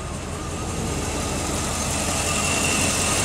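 A Ford F150 engine running on HHO hydrogen/oxygen made from water idles steadily and close by, a continuous even rumble with no talking.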